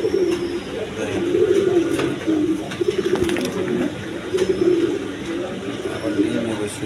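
Pigeons kept as breeding pairs coo repeatedly in soft, rolling phrases close by, with a person talking intermittently over the birds.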